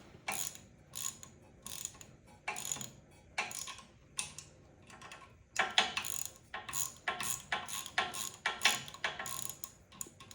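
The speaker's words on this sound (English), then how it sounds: "You can see I'm getting them tight, but I'm not over tightening them." Metal headlight mounting bolts on a MotoCult 7-inch headlight being tightened with a ratcheting tool, giving bursts of quick clicking ratchet strokes separated by short pauses, close and fairly quiet with no talking.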